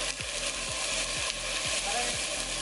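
Ginger, garlic and curry powder fry in a pot for lamb curry under a steady sizzle, with a rhythmic series of spoon strokes scraping the pot, close and unvoiced.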